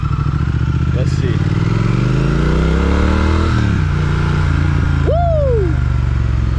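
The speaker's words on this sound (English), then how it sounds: "that Triumph Speed Twin high power engine is never going to get boring" A Triumph Speed Twin motorcycle engine revs up and down on a ride, loud and close, with rising and falling engine tones and steady wind noise throughout; a brief whoop cuts in near the end.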